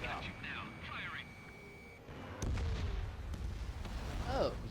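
Missile launch and explosion in the jet combat game Ace Combat 7, a sudden broadband blast about halfway through followed by sustained loud rumble, under radio-style voice chatter and tonal cockpit sounds.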